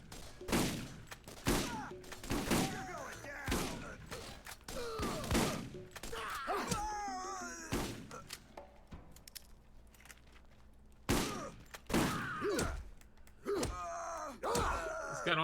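Video game gunfire in bursts of sharp shots, several rapid volleys and single cracks spread across the stretch with short pauses between, mixed with groaning creature sounds and other game effects.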